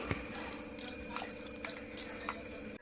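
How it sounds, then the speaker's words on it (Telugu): Soaked tamarind juice being poured into a pot of sambar gives a continuous, soft liquid trickle with small drips, steady and close throughout. "ఇప్పుడు ఈ టైంలో మనం ముందుగా ఇట్లా నానబెట్టి పెట్టుకున్న చింతపండు పులుసు వేసుకుంటున్నాను"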